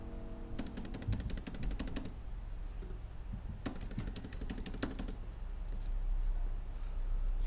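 Typing on a computer keyboard while entering text in Photoshop, two quick bursts of rapid close key clicks separated by a quiet pause, with soft background hum.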